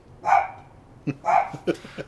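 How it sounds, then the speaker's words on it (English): A dog barking indoors, a pair of sharp barks followed by a quicker cluster of shorter yips and barks, fairly close and clear, with no talk over them. "Sorry for the dog barking"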